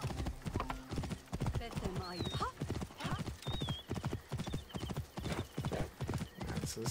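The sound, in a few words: horse clip-clop and neighing in video game Assassin's Creed Origins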